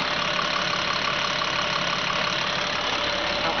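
A car engine with a very clean, tight internal condition idles steadily and smoothly at close range, a continuous even hum with no revving and no voices.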